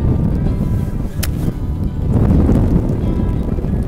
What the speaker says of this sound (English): Oh man, the wind.